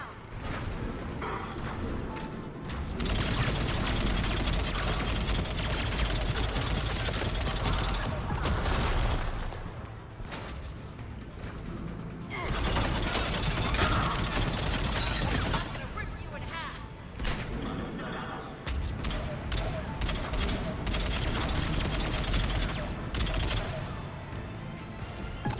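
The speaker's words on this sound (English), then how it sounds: "Turret." Turret gunfire in the video game Mass Effect 3 rattles in dense, loud bursts of rapid shots, broken by short lulls, continuing across the whole stretch of play.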